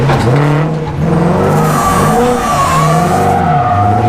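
A car doing donuts with a clutch kick screeches its tires continuously and loudly, engine revving with rising and falling pitch as the skid sweeps around, close to the listener with no talking.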